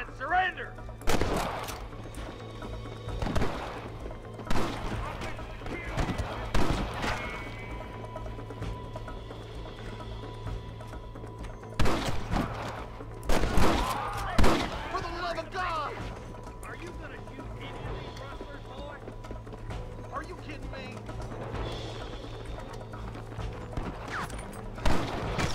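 Red Dead Redemption gunfire: sharp, loud shots in irregular bursts with mechanical clicks between them, spread across the stretch, with someone speaking Russian in between.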